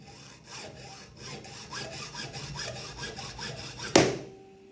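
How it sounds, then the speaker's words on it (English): A hacksaw cuts through a shovel handle clamped in a vise, a quick series of close, rhythmic back-and-forth rasping strokes ending in a sharp clatter as the piece breaks off. "we can cut that with a hacksaw"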